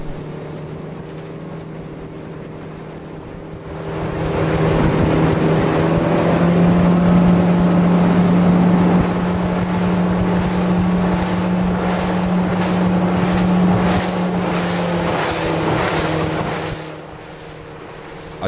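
Outboard motorboats racing, a Suzuki and a Yamaha around 9.9–15 hp, with a steady loud engine drone that swells as the boats close in, holds for over ten seconds, then eases off, with wind buffeting the microphone.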